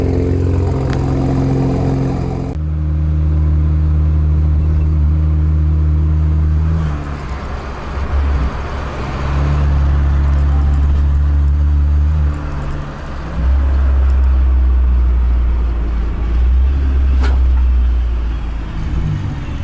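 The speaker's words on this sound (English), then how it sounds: "Let's check out some pulls of the blow-off valve on this car." A loud turbocharged 335i engine revving and pulling hard in surging waves with its blow-off valve, its droning note rising and falling, close by with no talking.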